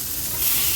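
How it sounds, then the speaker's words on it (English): Pork chops hitting a hot pan and sizzling, a brief, loud, steady hiss of searing meat with no voices. "that zzz, the sizzle."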